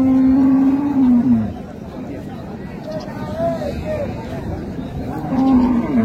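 At a rural cattle market in Dinajpur, cows and calves moo loudly and close by, with a long low call at the start and another near the end, while people chatter and bargain around them.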